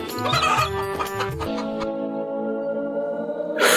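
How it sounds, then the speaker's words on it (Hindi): A cartoon rooster clucks in a quick, loud run of calls up close, then a sustained tonal note holds over a musical backing until a final burst. "ये मुर्गी नहीं, मुर्गा है"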